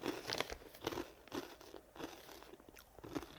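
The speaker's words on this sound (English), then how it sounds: "And it's super crunchy" Crunching bites of a crunchy, sweet bread-like Korean snack, several close, dry crunches in an irregular chewing rhythm with no talk.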